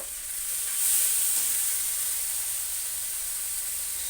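Yogurt chicken sautéing in a pan gives a steady, close, bright sizzling hiss that swells briefly and then holds evenly, with no voices.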